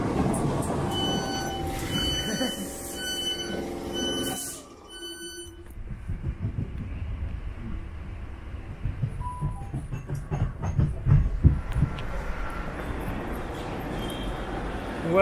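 An RER commuter train pulls into a London station, its rumbling low clatter building over the platform ambience with a tonal chime or signal near the start and rising rattles as it arrives; people speak faintly in the background.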